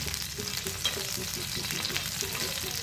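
Food sautéing in a pan, a dense even sizzle that stays constant through the short stretch, with faint rhythmic stirring beneath.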